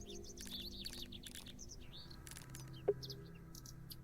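A bird in a video game cutscene chirps in quick high repeated tweets through a quiet backdrop, faint and fairly close, with a brief sharp tap partway through.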